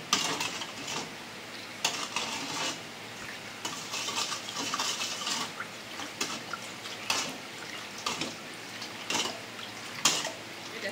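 Roti jala batter with yellow coloring or turmeric is stirred in a bowl, giving soft, irregular wet scraping and swishing strokes with short louder clinks, close and fairly quiet, with no talking.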